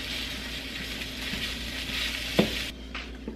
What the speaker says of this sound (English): and we're just gonna fry this up